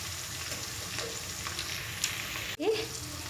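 Onions sizzle steadily in hot oil in a pan for a bendakaya and dosakaya curry, with a spoon scraping and stirring through them, close and continuous.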